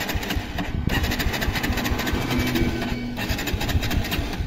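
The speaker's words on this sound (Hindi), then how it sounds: "एक बार आपको स्टार्ट करके दिखा देते हैं" A Bajaj Pulsar NS 125 motorcycle running low on petrol makes a steady, close mechanical clatter throughout, an even engine rattle with no pauses.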